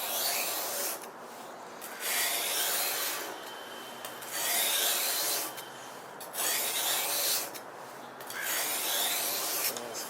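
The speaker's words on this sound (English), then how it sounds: "So I usually try to count the number of times for equal sharpening." A cheap dollar-store knife being sharpened with repeated rasping strokes in an even rhythm, about five passes, each a second or so long with short gaps between.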